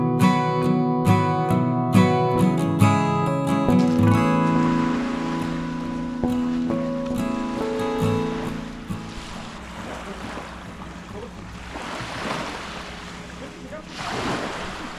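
Waves wash onto a very small beach on Zakynthos, below a steep climb, heard as soft rolling surges. Wind buffets the microphone throughout, with tonal clatter early on and the surf swelling louder near the end.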